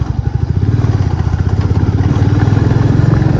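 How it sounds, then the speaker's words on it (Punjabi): A motorcycle engine chugs loudly and close by, its rapid, steady thumping labouring in first or second gear up a steep, rough unpaved mountain road in the Sainj Valley. "ਮੋਟਰਸਾਈਕਲ ਪਹਿਲੇ ਦੂਜੇ ਗੇਅਰ 'ਚ ਚੜਦਾ ਹੈ"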